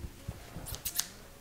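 Fabric scissors cut through a long sleeve top with a few quick, crisp snips, close and fairly quiet, with no talk.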